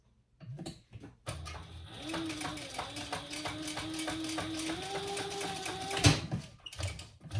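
Home sewing machine stitching a curved seam on a zip project, a steady mechanical whirr with rapid needle ticking that runs for several seconds, then stops with a clunk.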